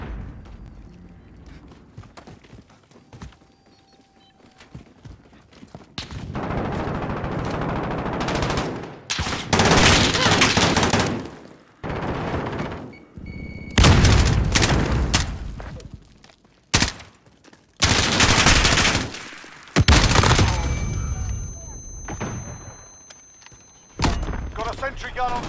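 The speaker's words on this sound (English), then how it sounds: "Friendly sentry gun online." Friendly sentry gun in the game Rage, firing in long sustained automatic bursts separated by quieter gaps, loud and close, with a voice speaking in the pauses.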